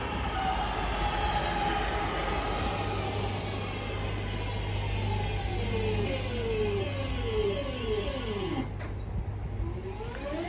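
A British Rail Class 323 electric train bound for Manchester Piccadilly hums steadily with a rising and falling motor whine, close and continuous, as it pulls away.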